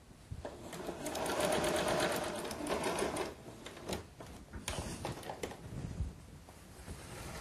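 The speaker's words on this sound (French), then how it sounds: "Je vais maintenant fixer l'ourlet à l'aide de la machine à coudre." A sewing machine stitches a folded fabric hem in quick, steady mechanical bursts, close up and fairly quiet, stopping and restarting a few times.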